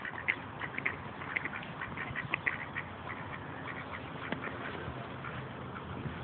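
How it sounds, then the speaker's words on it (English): Several small ducks quack softly in short, scattered calls over a low, steady background hum in Culver City, with no talking. "Adorable little ducks."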